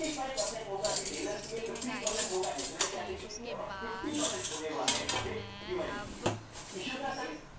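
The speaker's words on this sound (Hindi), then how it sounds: "अब मैं जो बर्तन मैंने धोए हुए थे वो भी मैं बर्तन में लगा रही हूँ।" Washed steel utensils and dishes are stacked and put away in a home kitchen, with repeated close clinks, clatters and metallic rattles continuing throughout.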